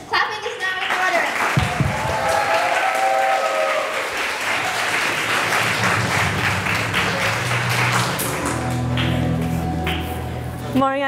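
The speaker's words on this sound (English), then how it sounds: "Clapping is now in order." A school TEDx audience applauds as the student delegate Quinn is introduced, dense clapping filling the hall at steady volume while voices and some music-like tones carry through underneath, with speech heard toward the end.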